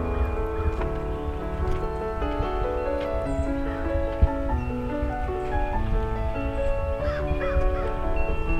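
A hen clucks nearby in a run of short, throaty calls that repeat through the clip, with no one speaking over them.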